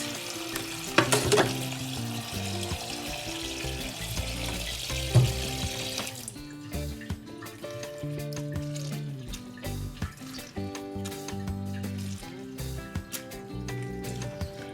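Water splashing and running while a whole chicken is washed with lemon and water in a sink, with a busy stream of splashes and handling noises. The first few seconds are louder and wetter.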